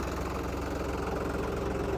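A new New Holland 3600 tractor engine running at a steady idle, a loud close low diesel rumble with even rapid knocking pulses and no voices.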